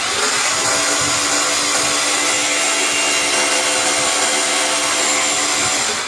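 A cordless drill set to plain mode without hammer drives into wood, giving a continuous loud high whine with grinding friction, steady and close throughout.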